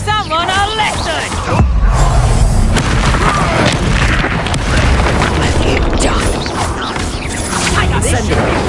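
An Incendio fire spell blast in a Hogwarts wizarding video game, a loud whooshing burst of flame over dense game effects and background voices, rumbling on for several seconds.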